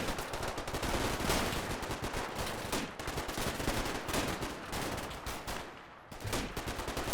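Dense, continuous rapid gunfire from rifles and machine guns cuts down German rifle teams rushing a house in the World War II strategy game Combat Mission Final Blitzkrieg, loud and overlapping with a brief lull near the end.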